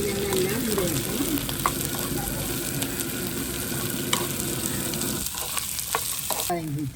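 Onions and green chilies frying in oil in a pan for a Tamil-style egg curry, with a steady close sizzle throughout, a few utensil taps, and the frying noise briefly dropping before picking up again near the end.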